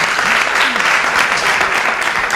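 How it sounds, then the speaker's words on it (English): Dense, loud audience applause from a crowd at a poetry recitation finals event, a continuous roar of clapping with no break across the short stretch. "we just want to give her a second round of applause"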